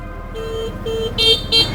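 A car horn honks at a car blocking the road, two short bright blasts near the end over a low idling engine rumble, loud and close.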